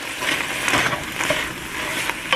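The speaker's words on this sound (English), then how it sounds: "I'm going to stir all that garlic in" Minced garlic, four large cloves, sizzles in a pot as it is stirred in for a stuffed pepper soup. A short, steady frying hiss is broken by scraping spoon strokes close by, with no talk.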